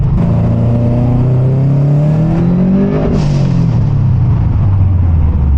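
A Subaru WRX STI engine climbs hard toward 8,000 RPM, its pitch rising steadily until a flat-foot shift abruptly drops the revs, then it winds up again, loud and close.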